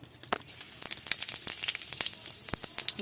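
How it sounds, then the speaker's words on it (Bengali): Cumin seeds crackling in hot oil in a wok, a faint sizzling bed broken by sharp irregular pops and spits, close by with no talk. "কড়াইতেই আমি দিয়ে দেব দুটো জিরে"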